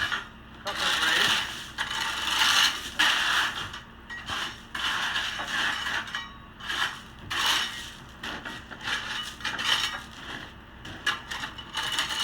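A hoe scrapes across 3/4-inch fractured gravel to cut grade for slab prep, in repeated rhythmic gritty strokes, close and fairly loud.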